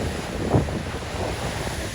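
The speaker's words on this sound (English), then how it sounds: "Probably hear that wind." Strong wind gusts across a rocky shoreline by the sea, a steady roaring rush of air buffeting the microphone, with a brief louder gust near the start and surf washing underneath.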